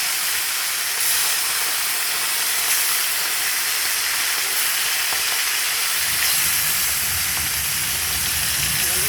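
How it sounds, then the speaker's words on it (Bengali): Fish frying in hot oil gives a continuous, even sizzle and hiss throughout, with no voices, just a constant crackling wash of sound. "মাছটা ভাজা বসিয়ে দিলাম"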